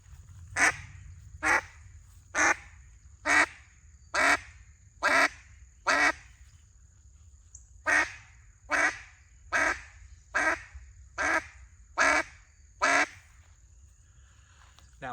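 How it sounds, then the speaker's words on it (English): A cutdown duck call blown in two series of sharp, evenly spaced quacks, each set of about seven separated by a short pause, loud and close with no talking. "I'm gonna step back and give y'all a couple quacks."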